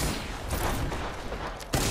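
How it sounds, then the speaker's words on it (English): Sniper gunfire in the video game Apex Legends: a couple of sharp, fairly faint shots with crackling reports amid game noise, one sharper crack near the end, no talk over them. "Being sniped."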